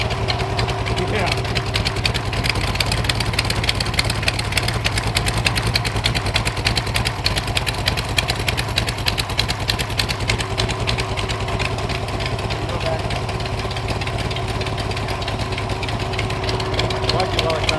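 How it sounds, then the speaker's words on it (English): Stroked Mopar 318 small-block V8, bored out to nearly 392, idling steadily with a loud, lumpy, rhythmic rumble and a mechanical tick that holds throughout, with no talk over it. "let you appreciate the sounds of this stroked out 318"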